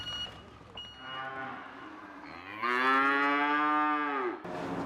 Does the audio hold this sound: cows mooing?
yes